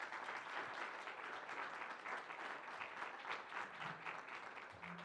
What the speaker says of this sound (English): Please, a round of applause for these two wonderful candidates.